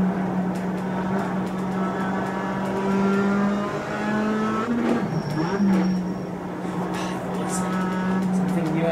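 An iRacing race car at Lime Rock Park drones with a steady, buzzing engine note that dips sharply as it shifts up a gear, then climbs again, with faint tire noise and occasional speech in the background.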